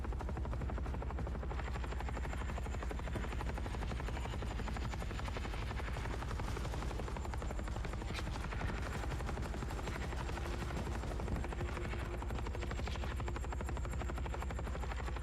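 Helicopter hovering in the video game The Forever Winter, a steady loud rotor drone with a thin high whine running throughout, unbroken and close.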